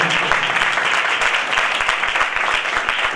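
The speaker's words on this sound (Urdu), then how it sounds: "زوردار تالیاں اگر یسوع مسیح کے لیے ہے تو زوردار تالیاں بجائیں۔" Loud, sustained applause from a church congregation during a worship service, dense and continuous clapping filling the whole moment with no talk over it.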